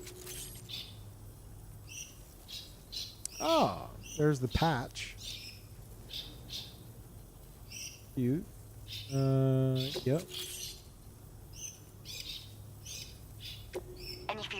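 Lorikeets in the video game Death Stranding 2 chirp and squawk in scattered bursts over a low ambient hum, with a few louder squawks, while a person talks briefly in between.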